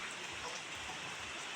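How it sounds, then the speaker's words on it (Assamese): Rain falls steadily in a village, a continuous soft hiss of drops striking surfaces with no breaks and no voices. "এতিয়া বৰষুণ পৰি আছে গাইজ।"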